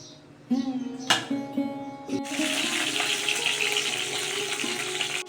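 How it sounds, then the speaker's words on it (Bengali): Marinated bhola fish laid into hot oil, starting with a few sharp clinks and splashes, then a loud, dense frying hiss that holds steady and close to the end. "দেখুন আমি সুন্দর করে ফ্রাই করে নিচ্ছি"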